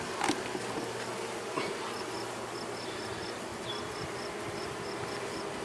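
Honey bees hum and buzz steadily around a hive box outdoors, a continuous faint insect drone with individual bees passing near now and then.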